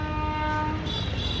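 A train horn at Pune railway station blares loud and steady through the whole brief moment, over a rumbling station background.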